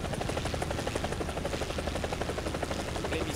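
A helicopter in War Thunder gives a steady, rapid rotor thump with a whining turbine beneath, constant and fairly close, no other sounds.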